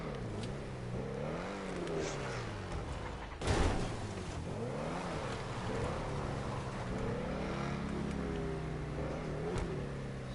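A car engine driving in GTA 5 Online, revving up and down in repeated swoops, with a sharp crash-like burst partway through, moderately loud and steady, with no voices.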